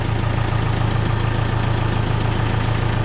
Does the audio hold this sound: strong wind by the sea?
no